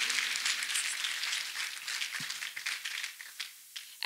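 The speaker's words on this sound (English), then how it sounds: "Let us continue clapping for Master Jesus for this wonderful healing." A church congregation claps steadily after a healing testimony, a dense continuous patter of many hands at moderate loudness that thins out and trails off toward the end.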